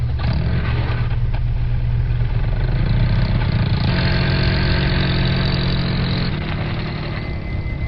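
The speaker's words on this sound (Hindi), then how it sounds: "और फिर सोन गाड़ी को आगे ले जाता है।" A jeep engine runs loud and close, rumbling steadily with slight revving as it drives, no voices.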